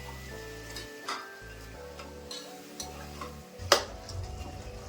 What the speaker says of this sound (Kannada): ಒಂದ್ಸರಿ ಮಿಕ್ಸ್ ಮಾಡ್ಕೊಂಬಿಡೋಣ.